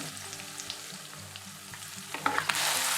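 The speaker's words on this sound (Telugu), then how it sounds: "దీన్ని మనం కూరంతా కలిసేలాగా తిప్పుకోవాలండి." Chicken and potato curry with garam masala being stirred in a pan, a continuous sizzle with soft scraping stirs that swells into a louder hiss at the end.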